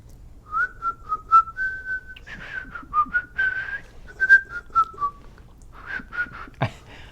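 A person whistles a wavering tune alone, held tones rising and falling with short breaks between phrases, close and fairly loud, with no talking.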